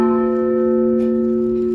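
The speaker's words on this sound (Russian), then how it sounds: "в ходе торжественного митинга звучал колокол памяти" A memorial bell rings at a solemn rally honouring a submarine crew, one deep resonant strike sustaining a long humming tone that slowly decays, with no voices.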